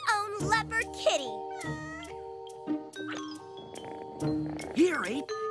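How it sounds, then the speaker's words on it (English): A cartoon leopard kitten gives high, sliding meows in a kids' jungle cartoon, several cries mixed with lively character voices and bright music. "your very own leopard kitty"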